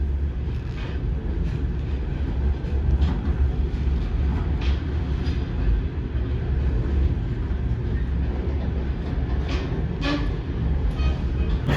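Steady rumble and clatter of a passenger train travelling from Shymkent toward Almaty, heard from inside a carriage with constant low rolling noise and occasional faint knocks.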